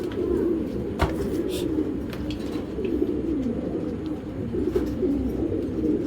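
Racing pigeon hen cooing close by in soft, low repeated coos, with a few faint chirps and clicks around it.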